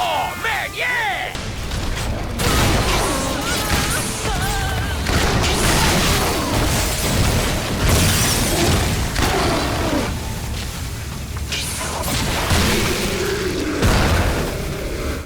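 Heavy, booming shotgun blasts from a Cerberus triple-barrel shotgun in a first-person shooter game, several loud shots in quick succession over a dense, continuous game soundtrack, with a voice speaking briefly.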